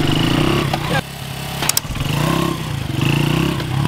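A dirt bike engine revs up and down close by in loud, throaty bursts, with a brief dip and a couple of sharp clatters midway before the revving builds again.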